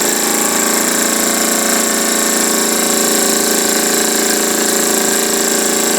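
An antique Jensen Weeden toy steam engine running in reverse gives a steady, loud mechanical clatter with a dense, even rhythm that holds unbroken from start to finish, close to the microphone and with no talking.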